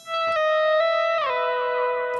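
A single clean, sustained electric guitar note is picked, swelled in volume, then bent through pull-off, hammer-on and a sliding drop to a lower pitch, ringing alone with light effects.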